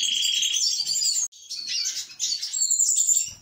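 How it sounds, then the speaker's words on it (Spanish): Small finches, a red siskin and a goldfinch, chatter close by in a continuous stream of bright, high twittering song with only brief pauses. "aquí tengo un cardenalito que lo uso de semental y que ahora mismo se me ha subido también la jilguera"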